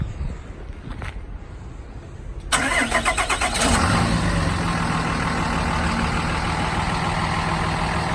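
A 2010 Dodge Ram 5500 bucket truck with a 6.7 liter Cummins turbo diesel cranks briefly over outdoor background noise, then fires and settles into a loud, steady clattering diesel idle close by.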